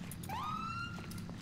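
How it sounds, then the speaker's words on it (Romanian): Police siren in the GTA 5 FiveM roleplay game, a single rising wail that climbs and holds steady, fairly faint and distant over a constant low background rumble, with no talking. "Se aude pe aici niște sirene."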